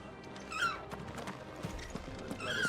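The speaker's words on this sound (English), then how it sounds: "Your steed is in fine fettle, my lord." Horse hooves clopping in Final Fantasy 16, fairly quiet, with short whinnies near the start and end over a soft ambient background.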